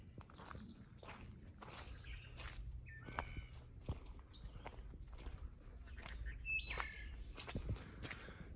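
Birds sing beside a muddy Midwest hiking trail: scattered short whistles and chirps, moderately distant, come over quiet footsteps crunching along the path, with no talking.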